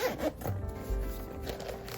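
A zipper on a Nintendo Switch 2 carrying case is pulled open in one short, close, raspy run, heard alone.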